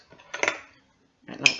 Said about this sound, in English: Crack the egg into a little bowl. Lightly whisk it,